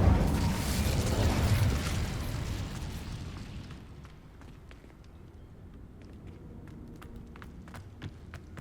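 Fire spell Incendio cast in Hogwarts Legacy: a loud, roaring burst of flame that swells for about two seconds, then fades into a low rumble with scattered soft pops and clicks.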